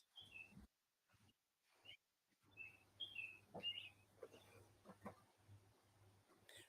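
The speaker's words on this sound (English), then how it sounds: "They said the birds sound lovely." Birds chirp outdoors in short, high calls that come and go in small clusters, faint and a little distant, with soft background noise and brief drops to near silence.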